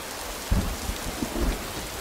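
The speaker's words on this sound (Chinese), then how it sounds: "你在这儿淋雨，你鞋都湿了" Steady rain falls outdoors during a family argument, a continuous hiss with a few louder thuds and bursts standing out briefly against the wash.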